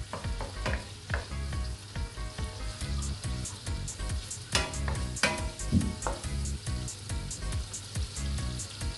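Pork liempo cooking into chicharon as its fat renders out, a busy crackling sizzle in the pan with irregular pops and stirring clatter, steady and close throughout.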